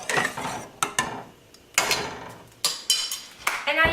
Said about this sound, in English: And stir just to get the vinegar nice and mixed in.